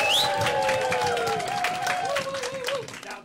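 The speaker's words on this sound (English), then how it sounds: "Now that's what I call an ovation." Theatre audience at a George and the Dragon show giving an ovation, a loud dense wash of clapping with cheering, whistles and shouting voices, steady then fading slightly at the end.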